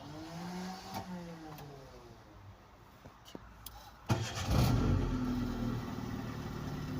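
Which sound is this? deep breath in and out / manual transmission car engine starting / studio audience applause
manual transmission car engine starting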